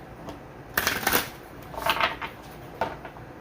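Oracle cards being shuffled by hand, three quick riffling bursts separated by short pauses, close and soft with no talk.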